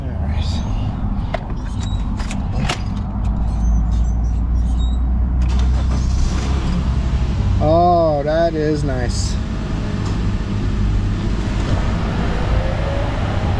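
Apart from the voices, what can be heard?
Honda car engine started with ignition key, idling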